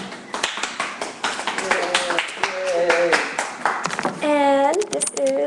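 A small crowd at a live anti-smoking presentation claps in scattered bursts, mixed with sparse cheers, voices and a high tonal sound near the end.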